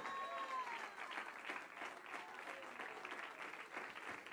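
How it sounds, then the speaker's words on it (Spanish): A church congregation applauds during a sermon, a soft, steady patter of many hands heard at a distance with faint voices mixed in. "Dale un aplauso al Señor."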